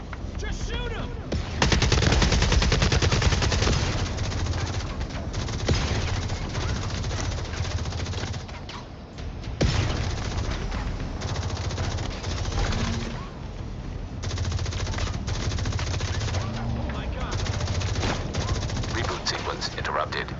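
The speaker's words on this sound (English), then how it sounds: "Just shoot him!" Sustained automatic gunfire rattles through a video game battle, with dense bursts of shots running continuously over loud combat noise while voices shout and a robotic announcer speaks.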